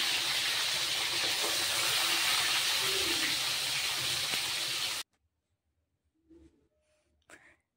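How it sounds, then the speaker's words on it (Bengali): A loud, continuous hiss of chitol fish frying in hot oil that cuts off suddenly, followed by near silence with a couple of faint clinks. "তেল দিয়ে প্রথমে মাছগুলিকে ভেজে নেব। মাছগুলি দিয়ে দিলাম।"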